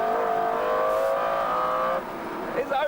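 The McLaren F1 XP4 engine holds a loud, smooth high-pitched tone as it accelerates out of a corner, then drops away abruptly as the revs change, close and clear.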